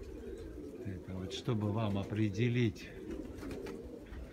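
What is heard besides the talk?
pigeons cooing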